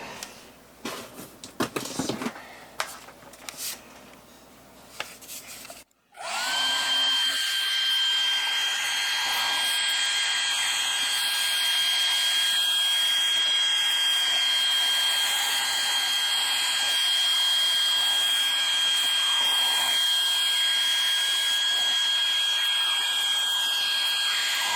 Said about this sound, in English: now I will take my hair dryer and dry the whole